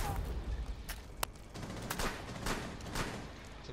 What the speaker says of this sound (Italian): Senza una logica questi spari.